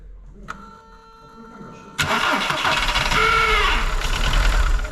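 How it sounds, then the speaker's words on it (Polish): A Skoda Fabia engine with a misfire runs close by, rough and uneven, its idle stumbling irregularly after a brief quieter stretch with a steady whine. "zobaczcie jak ten silnik pracuje"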